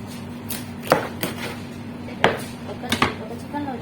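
A knife chops vegetables on a cutting board with a few irregular, sharp knocks spaced apart over a steady low background hum.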